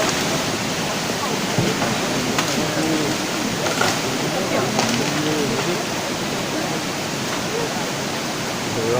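Floodwater from the 2018 Kerala flood rushes in a continuous, loud, broadband roar like a torrent, with faint voices occasionally audible beneath the steady flow.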